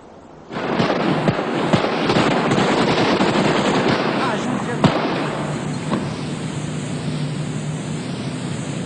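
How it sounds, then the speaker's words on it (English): Sustained rifle fire from several soldiers during the execution of Nicolae and Elena Ceausescu, a dense, loud volley of shots lasting several seconds with sharp individual cracks standing out. "I fired 29 cartridges in 3 rounds."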